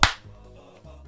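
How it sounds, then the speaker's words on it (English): A single sharp hand slap of a high five, close and loud at the very start, followed by a brief low hum with no talking. "That was a clap, and it hurt very much."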